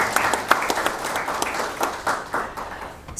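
Audience applause welcoming a panelist, the co-founder of a recycling company, at a youth dialogue panel on sustainability: steady dense clapping from a crowd with a few sharper claps standing out, continuing throughout.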